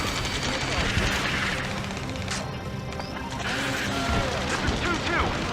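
Missile launch and combat in Ace Combat 7 during a hard-difficulty air mission, a rushing roar with crackling gunfire and mechanical clatter layered over steady jet noise, radio voices talking.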